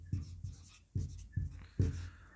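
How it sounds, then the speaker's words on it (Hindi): Quiet, close strokes of writing on a board during a classroom-style lesson, coming in short scratchy bursts separated by brief pauses, with no talking over them. "नेक्स्ट अपन दूसरा लिखते हैं मोठड़े।"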